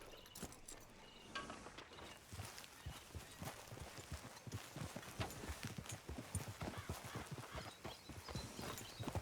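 A horse's hooves clip-clop steadily along in the video game Red Dead Redemption 2, a continuous rhythmic walking-to-trotting beat heard close and fairly quiet, with faint voices occasionally over it.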